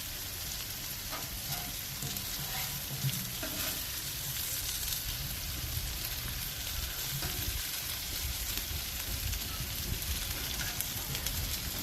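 Red potatoes sizzling and frying in a hot pan, stirred and pushed around quickly with a spatula; a steady, dense crackle runs throughout with faint scraping movements, no talk.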